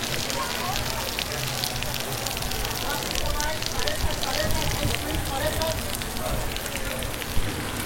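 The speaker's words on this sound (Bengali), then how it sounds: "মুষলধারে বৃষ্টি হচ্ছে।" A heavy downpour with gusty wind hammers down in Tulum, Mexico, a dense, unbroken roar of rain close by, with voices faintly beneath it.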